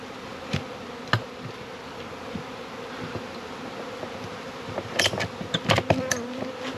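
Steady hum of bees buzzing around a hive, with a few sharp clicks and handling knocks, denser near the end.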